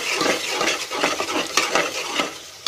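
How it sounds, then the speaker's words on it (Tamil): Spices and two green chillies being sautéed in a pan for mushroom biryani, with a spoon scraping and stirring in a steady rhythm over a continuous bright sizzle, close and alone. "இதை நல்லா வணக்கி விட்டுருங்க."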